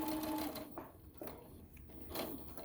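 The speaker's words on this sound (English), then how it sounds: "when I start, I want my needle right on that line. So it should back stitch" A sewing machine back stitches along the seam line of a fabric tote bag, its motor whirring quietly in short bursts with brief pauses between runs, close and soft, with no one talking.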